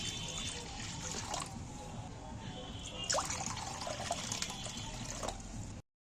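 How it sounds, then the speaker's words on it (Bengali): Tap water runs steadily into a cooking pot at a home kitchen sink after boiled potatoes are drained, a continuous moderate splashing with brief clatters and no talk. "ফের আমি জল ভরে দিচ্ছি"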